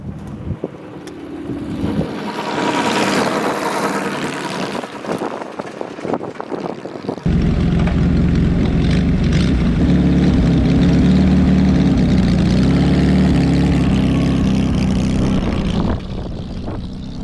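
A 1937 Puch 800 motorcycle engine idles unevenly at first, then settles into a loud, steady, low rumble as the machine pulls away and rides on, easing slightly toward the end.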